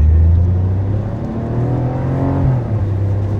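Smart fortwo Brabus with a Pedal Sprint throttle module accelerating hard, its small engine revving up loudly and steadily with a rising whine, heard up close from inside the car with no talk.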